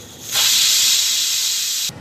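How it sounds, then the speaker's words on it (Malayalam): Pressure cooker whistle on a Kerala vegetable stew, a sudden loud hissing blast of steam that starts abruptly, holds steady for over a second and a half, then cuts off. "3 വിസിൽ വന്ന് ഞാൻ ഓഫ് ചെയ്തിട്ടുണ്ട് കേട്ടോ."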